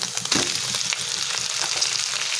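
Egg curry masala with tomato pieces fries in a pan, making a dense, close sizzle with a few light stirring scrapes over a couple of seconds, with no voices.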